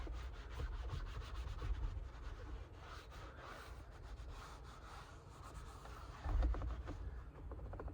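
Scrubbing inside a Chevy Equinox during an interior detail, a close, steady brushing and rubbing in quick back-and-forth strokes with a brief harder bump near the end and no talking.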